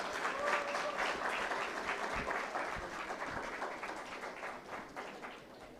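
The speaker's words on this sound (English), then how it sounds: "Let's welcome him with a big round of applause." An audience at a graduation ceremony applauds steadily, the clapping dense at first and slowly thinning toward the end.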